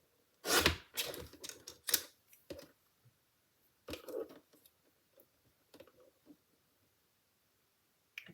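Paper is trimmed for a handmade card in a series of sharp cutting clicks and scrapes, loud at first and then sparser and fainter, with no voices.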